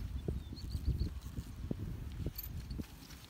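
A Percheron mare from the Stryi region walks outdoors, her hooves clip-clopping in an irregular, moderately close rhythm at low volume, with no talk over it.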